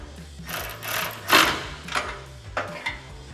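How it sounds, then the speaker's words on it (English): A 13mm wrench and socket snug down fog light mounting hardware on a 2021-2022 F-150 Barricade HD off-road front bumper, giving a few separate bursts of close mechanical ratcheting and scraping. "we can take a 13mm wrench and a 13mm socket and snug this down"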